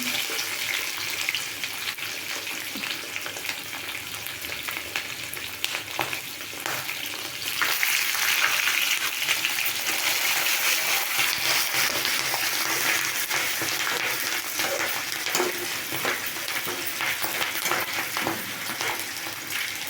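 Green and dry chilies hit hot oil for raw mango chitranna, and a steady frying hiss grows louder about halfway through. The hiss continues close and unbroken, with faint clinks and stirring and no talk.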